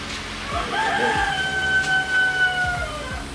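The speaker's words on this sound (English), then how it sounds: "There's one chicken got out." A chicken out loose on a homestead, calling in a drawn-out crowing, clucking voice that rises and falls over steady background noise, with a few low thumps underneath.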